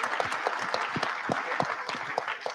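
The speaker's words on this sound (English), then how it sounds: "So can we give him a round of applause?" An audience at a Sacramento State of the City event claps in a brisk, sustained round of applause from many hands across the room.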